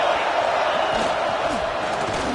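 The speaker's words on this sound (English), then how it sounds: "This crowd is trying to inspire this defense to make a big red zone stop." A football stadium crowd at a Texas vs LSU game roars steadily as the home defense tries for a red zone stop, a loud, dense wall of cheering and yelling.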